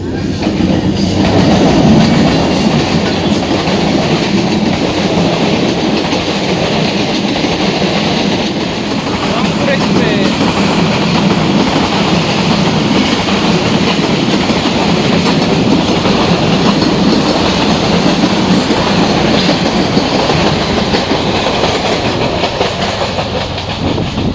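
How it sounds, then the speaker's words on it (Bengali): A train rolls past near a station and level crossing, a loud, continuous rumble with rhythmic clickety-clack of wheels on the rails sustained throughout, very close and filling the whole span. "ট্রেনের শব্দ পাইলাম ট্রেন আসতেছে মনে হচ্ছে"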